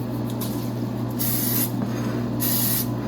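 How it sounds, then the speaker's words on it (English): Two hissing bursts of butter-flavored aerosol cooking spray onto a baking dish, close and loud, each lasting about half a second, separated by a short pause. "I'm just going to spray it with some butter flavored cooking spray"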